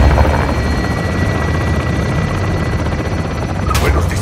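A helicopter in the video game Call of Duty: Modern Warfare 2 thunders loud and close with a steady rotor chop and engine roar, unbroken throughout, with a brief sharp burst near the end.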